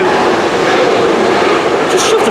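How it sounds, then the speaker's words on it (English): A long yellow HOBC freight train hauled by a class 66 diesel locomotive stands at platform 2 of Rugeley Trent Valley station, giving a loud, steady broadband rumble and roar with faint higher hiss near the end. "this long HOBC train is just on platform 2 at the moment"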